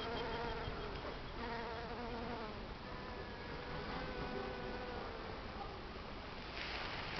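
Honeybees gathering pollen on clover outdoors, a steady, continuous buzzing swarm of many insects at close range, fairly faint and unbroken throughout.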